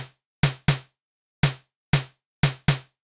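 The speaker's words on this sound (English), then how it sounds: "That's the bass drum, by the way. It normally sounds like this." A clean, undistorted bass drum sample from GarageBand strikes six times in an irregular rhythm, each punchy hit decaying quickly into silence and playing alone.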